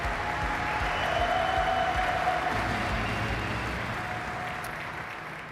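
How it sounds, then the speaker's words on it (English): A conference crowd at 3DEXPERIENCE World 2025 gives a big round of applause, a broad, steady hiss of clapping blended with a sustained tone, holding evenly before slowly tapering off. "Big round of applause."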